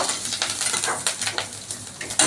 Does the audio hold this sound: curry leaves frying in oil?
yes